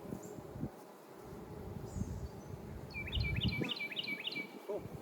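Honey bees hum around an open hive during a late-April beekeeping inspection, a steady low drone with a few brief higher chirps near the end.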